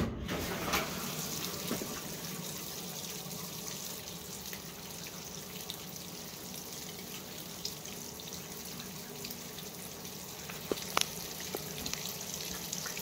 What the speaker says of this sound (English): it is filling with warm water because that warm switch is on